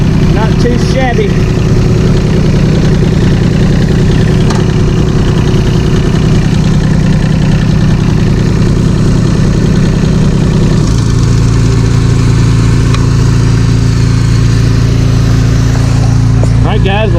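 An old small tractor engine, just started after years of sitting, runs loud and close with a steady rhythmic idle chug, the pitch dropping slightly partway through, while someone talks over it.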